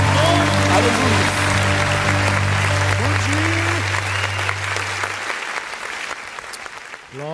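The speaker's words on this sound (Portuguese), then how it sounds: "As palmas engrandecem o nome." A church congregation at a worship service claps loudly and continuously for several seconds, the applause thinning and fading near the end as a voice speaks over it.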